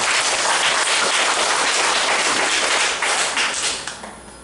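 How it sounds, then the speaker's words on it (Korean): Church audience at a Korean religious lecture breaks into a burst of loud, dense clapping from many hands, holding steady and then thinning out toward the end. "동의하시면 박수 한번 치세요"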